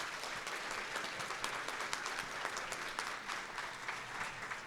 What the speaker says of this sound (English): Why don't we everyone give them a round of applause?